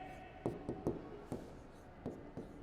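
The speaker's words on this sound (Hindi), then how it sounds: "तो अपन लिखेंगे" Chalk or marker writing on a board during a physics chemistry lecture: a series of short, distinct scratching strokes at an irregular rhythm, fairly close and quiet, with no talking over them.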